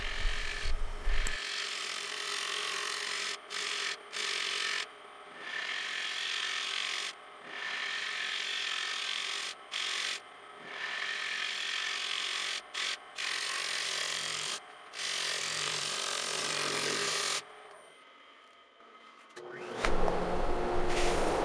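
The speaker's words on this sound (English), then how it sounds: "I'm sanding from 80 grit to 320 grit." Sandpaper runs across a walnut platter spinning on a lathe, working through the grits from 80 to 320, making a loud continuous rasping whir broken by brief regular pauses, with the machine still humming faintly near the end.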